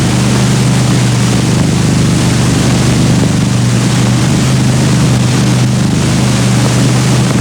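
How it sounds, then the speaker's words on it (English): A training aircraft's engine runs up at a Commonwealth Air Training Plan airfield in 1940, holding a loud, steady, unbroken drone with a low throbbing hum for the whole stretch and no voices over it. "then run up the engine"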